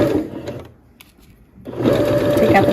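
A sewing machine stitches fleece hat panels in a loud, close, steady whir that stops briefly for about a second and then resumes.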